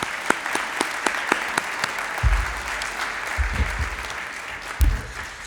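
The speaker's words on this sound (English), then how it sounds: "please give them a round of applause." Applause for staff at an athletic hall of fame ceremony: scattered distinct claps over a broad crowd wash, with a few low thumps and bumps mixed in.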